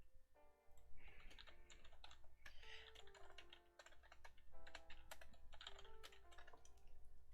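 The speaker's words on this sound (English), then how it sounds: "Gotta do some typing." Computer keyboard typing, rapid irregular clicks and key taps continuing steadily and close-up, fairly quiet overall with no talk.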